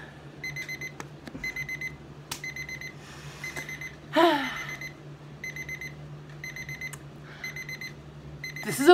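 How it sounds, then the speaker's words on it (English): Timer alarm going off, repeated bursts of bright electronic beeping in a regular pattern with short gaps, fairly close, joined by a brief rustle midway. "This is the longest timer ever."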